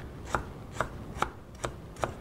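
A heavy chef's knife finely slices lemongrass stalks (white part only) on a board, five crisp, evenly spaced chops about half a second apart, close and distinct with no talking.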